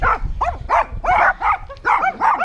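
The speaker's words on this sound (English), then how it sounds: "Attacked by wild dogs." Several wild dogs barking in quick, overlapping bursts on a beach, loud and close, with a few higher yelps mixed in.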